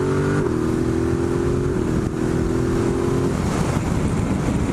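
A Ducati Multistrada 1260S motorcycle accelerates hard in third gear from around 4000 rpm, a loud continuous engine roar with rising tone close by, wind noise over it.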